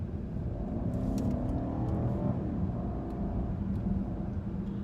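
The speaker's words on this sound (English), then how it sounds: "I'm gonna floor it just to show you how slow the throttle response is" A 2017 BMW 750i xDrive in Eco Pro mode pulls under full throttle from about 30 mph, its engine a steady, muffled interior rumble and whir that builds slowly without sharp revving, heard alone throughout.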